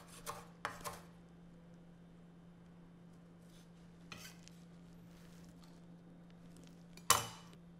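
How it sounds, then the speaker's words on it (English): Fresh parsley being chopped coarsely with a knife on a board for a shrimp gumbo, a few quick clustered knife strikes near the start, another around the middle and a sharper one near the end, with a low steady hum underneath. "I like to chop it a little coarse"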